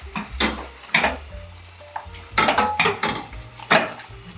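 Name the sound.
stirring cod and king prawn stew in a pot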